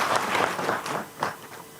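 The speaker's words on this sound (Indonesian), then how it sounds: "Ya, tepuk tangan." An audience claps at a government event on stunting reduction in West Java, Indonesia, with a short burst of applause that swells and fades.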